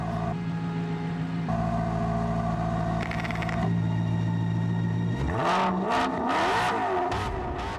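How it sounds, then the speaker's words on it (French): An Alfa Romeo 8C with its 450-horsepower V8 exhaust in Sport mode, a steady droning idle that swells into a loud rising rev with whirring engine tones on a circuit. "Vous avez même le privilège de changer le bruit de l'échappement en enclenchant le mode Sport."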